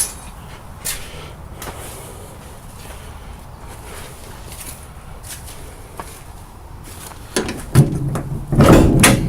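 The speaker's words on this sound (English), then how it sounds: "Yeah, now you guys get to see the fun door. Yeah. I hate this door so much." A stubborn truck door is worked open with a few scattered clicks and knocks, then a louder burst of rattling metal thumps near the end, close by and without talk.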